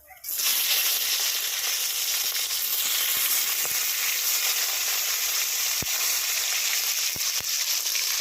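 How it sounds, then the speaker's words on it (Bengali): Chopped tomatoes frying in hot oil with two dried red chillies and nigella seeds, a steady, close, bright sizzle that hisses on without a break, with a few sharp pops and crackles scattered through it. "টমেটোগুলো যতক্ষণ না গলে যায় ততক্ষণ ভেজে নেবো"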